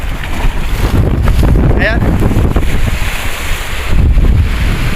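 Strong wind buffeting the microphone with ocean waves surging and crashing on a rocky shore, loud and continuous, with a short spoken word and brief voices partway through.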